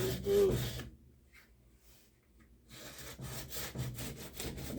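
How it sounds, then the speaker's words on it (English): Abrasive rubbing on a Remington 597 .22 rifle stock as its edge is beveled at a slight angle, with quiet close strokes that break for a pause of more than a second and then resume steadily. "I'm just doing this at just a slight angle. Beveling that edge over a little bit."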